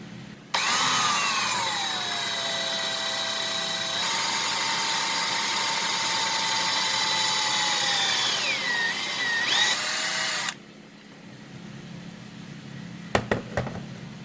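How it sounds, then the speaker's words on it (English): A power drill whines steadily for about ten seconds while drilling a hole for tapping, its pitch dipping under load, then stops, followed by a few faint clicks. "I gotta get a hole in there to tapped out"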